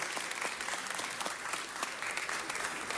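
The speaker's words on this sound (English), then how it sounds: "let's give our youth governor, Nick Gardner, a round of applause" A crowd applauds the youth governor, Nick Gardner, with continuous clapping throughout, a little distant and fairly quiet.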